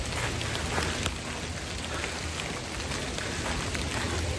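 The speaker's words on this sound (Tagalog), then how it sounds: "Bumuhos na naman yung ulan." Heavy rain pours steadily on a rainy hike, a dense, even wash of falling water close by with no talking.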